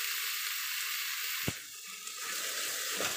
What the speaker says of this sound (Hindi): प्याज को हम हिलाते रहेंगे